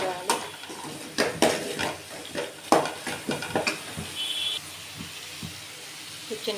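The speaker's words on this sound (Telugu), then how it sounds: "ఇప్పుడు పసుపు వేసుకుందాం, బాగా మిక్స్ చేయాలి." Turmeric is stirred into a frying mixture in a pan while cooking Andhra-style pulusu rice, with irregular close scrapes and metallic clinks of a spoon over a soft sizzle.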